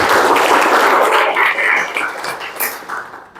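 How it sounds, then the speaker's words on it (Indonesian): In a school mathematics class, students give a round of applause for a classmate. Loud, steady clapping from many hands fills the room, then thins out and trails off. "Tepuk tangan."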